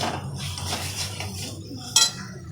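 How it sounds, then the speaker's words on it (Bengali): A metal lid goes onto a cooking pan of masala with carrots and eggs, giving one sharp clink near the end after some light scraping and clatter of cookware. "আবারও একটু ঢাকা দিয়ে দিচ্ছি বন্ধুরা"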